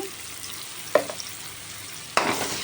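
Mushrooms frying in oil with a little turmeric in a home kitchen: a soft, steady sizzle with two sharper crackling spurts, one near the start and one near the end, and no talking.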